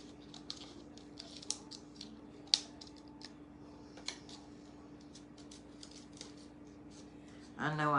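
Scissors trim off excess material in a quiet room, giving sparse, faint snips and light clicks spread over several seconds, with a louder rustle at the end.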